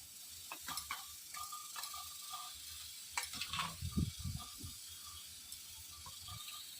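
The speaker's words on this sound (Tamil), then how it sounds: "இதை இப்போ கிளறி நல்லா அந்த புளி உப்பு மஞ்சள் தூள் எல்லாம் மிக்ஸ் ஆகிற அளவுக்கு கிளறிக்கும்" Tamarind, salt and turmeric being stirred into cooked rice, producing scattered scraping and clinking strokes with a louder burst of stirring midway, close and fairly quiet.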